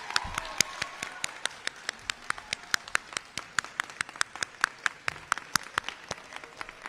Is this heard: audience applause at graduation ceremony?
yes